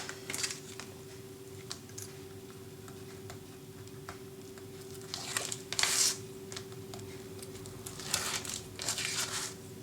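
Decorative design paper for a Christmas album being handled and laid down, soft crinkles and taps with a couple of louder rustling bursts near the middle and end, close and unaccompanied by speech.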